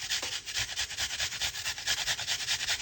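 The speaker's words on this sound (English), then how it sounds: "You get a lot more from things when you grate it." Food rubs rhythmically against a grater in quick, even back-and-forth strokes, a close raspy scraping that repeats steadily throughout with no speech.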